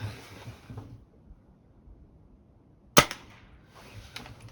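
A Crosman Magfire Extreme air rifle fires a single sharp, close crack that snaps out of near-silence and decays within a moment.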